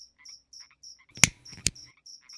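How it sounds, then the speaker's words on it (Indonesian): A frog croaks at night in a short, regular series of chirping calls, close and clear over near silence, with two sharper louder clicks midway. "Kodok."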